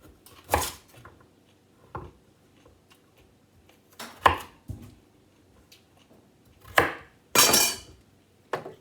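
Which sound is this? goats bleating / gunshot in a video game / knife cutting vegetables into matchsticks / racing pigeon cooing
knife cutting vegetables into matchsticks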